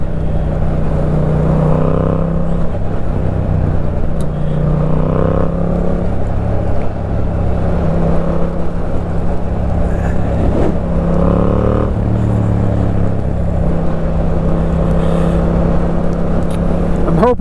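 A Yamaha MT-07 motorcycle riding on a rainy day, its engine droning steadily and loudly throughout with shifts in pitch as it revs, mixed with wind rush and someone talking over it.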